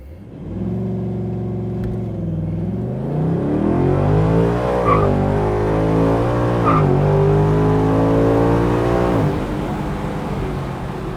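A 2024 Ford Mustang GT with a naturally aspirated V8 launches from a standstill, its engine note climbing loud and close through several rising sweeps as it shifts up through the gears, with a brief tire chirp.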